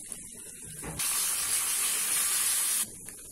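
A loud burst of hissing sizzle erupts as hot tempering is poured into tomato rasam, holding steady for about two seconds before cutting off, with quieter kitchen sounds around it.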